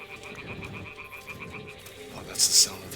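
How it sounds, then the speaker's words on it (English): A frog croaks in a rhythmic, pulsing series in Kingdom Come: Deliverance II, moderately close over a low ambient bed, ending with a couple of brighter, louder chirps near the end. "that's the sound of the frog"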